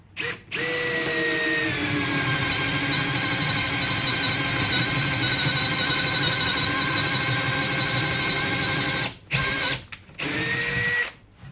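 A Makita XFD11 sub-compact cordless drill boring with a 1 inch bit at low speed, a loud sustained motor whine that strains for about nine seconds, cuts out, then returns in two short bursts.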